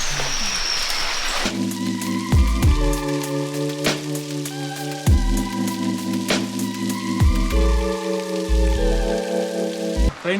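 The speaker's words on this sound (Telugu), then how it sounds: "వర్షం పడుతుంది. చలో బాయ్ బాయ్ కెమెరా." Rain falls steadily during a mountain trek to Serolsar Lake near Jalori Pass in Himachal, a broad hiss that continues under loud sustained tonal sounds with changing pitch.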